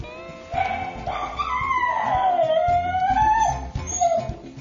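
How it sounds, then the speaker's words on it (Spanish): A dog left alone as its owner walks out the door, howling and whining in long wavering cries with short yips, loud and close, rising and falling over several seconds. "según salgo por la puerta se pone a ladrar"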